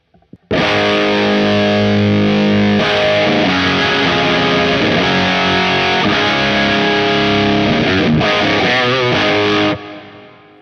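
Electric guitar driven through a Danelectro Cash Cow pedal set at 12 o'clock, loud saturated chords held and restruck continuously for about nine seconds, then cut off abruptly.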